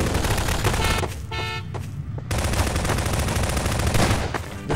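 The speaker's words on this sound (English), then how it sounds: "everyone's shooting" Dense, loud gunfire from a Garry's Mod Prop Hunt match, rapid automatic bursts overlapping almost without pause, with a brief lull near the middle before the shooting resumes just as hard.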